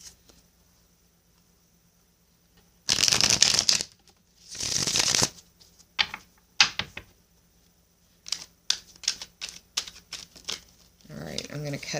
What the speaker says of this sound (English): I'm going to cut the deck for you